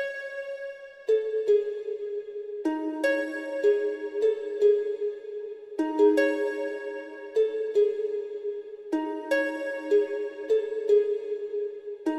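A plucked DSK World Strings counter melody in FL Studio, given a washy ambient reverb with the mix set at 46%, so the repeating phrases blur together and ring on without gaps. No voices.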